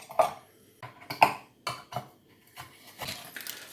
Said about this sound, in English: we'll just pop those out with a knife